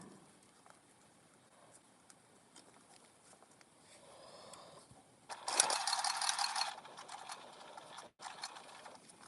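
A sewing machine top-stitching a water bottle carry bag runs in one loud burst of about a second and a half near the middle, then a shorter quieter run, with soft handling noise before and after.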